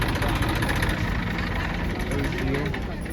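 A tractor parked by a roadside temple idles with a steady, low rumbling drone that runs throughout, while people talk nearby.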